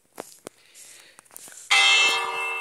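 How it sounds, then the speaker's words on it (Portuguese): A village bell rings in a Minecraft-like video game. A few soft taps and clicks come first, then a loud, bright peal that holds and slowly fades. "Tem até um sininho."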